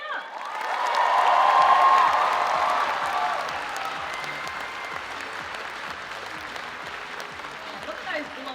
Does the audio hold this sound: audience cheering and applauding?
yes